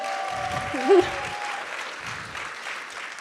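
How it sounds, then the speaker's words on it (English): Audience applause at a philanthropy event, a moderate, even patter of clapping that carries on steadily, with a short tonal sound and a voice briefly heard over it near the start. "Let's give that a round of applause"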